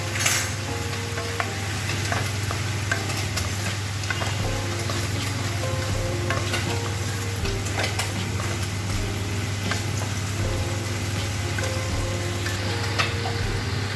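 Small fish with radish and green chillies frying in a pan, a steady sizzle with occasional stirring scrapes throughout, close and continuous with no talking.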